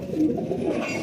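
Teddy-bloodline pigeons give a short, close, soft throaty coo, low and rolling, with nothing else around it.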